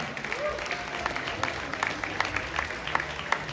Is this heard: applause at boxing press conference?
yes